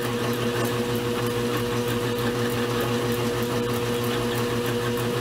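A Goodell Pratt Model 494 lathe, which has no threading attachment, cuts a thread off a workpiece with a steady motor hum and whine, an even drone with a faint rhythmic pulse, close and continuous.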